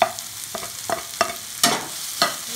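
Beef fries in a pan with chopped tomato and coriander leaves, sizzling softly under a series of sharp stirring scrapes and clacks spaced about half a second apart.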